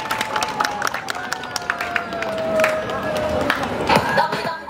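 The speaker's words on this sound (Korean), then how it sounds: "박수 많이 쳐주세요." Crowd applause and cheering at the end of a dance team's live stage performance, a dense wash of many hands clapping with scattered shouts, steady and moderately loud throughout.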